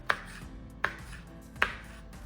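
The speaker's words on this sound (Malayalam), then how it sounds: "അതുപോലെ പച്ചമുളക് കട്ട് ചെയ്യാം." A knife chops green chillies on a board while making cabbage mezhukkuvaratti, a Kerala vegetable dish, giving three sharp, separate taps spaced evenly in an otherwise quiet kitchen.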